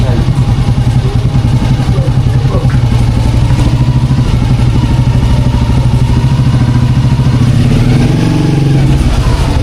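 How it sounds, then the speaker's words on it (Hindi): A motorcycle engine runs continuously while riding on a road in Sindh, a loud, close, throbbing drone with steady rapid pulsing and some rattle, and a slight rise in pitch near the end. "बाइक"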